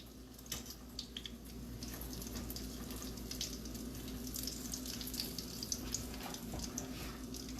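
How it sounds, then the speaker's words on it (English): Food frying in a pot during Jamaican home cooking gives a faint, continuous sizzle with scattered crackles and pops, heard alone with no talking. "so those are frying, doing their thing."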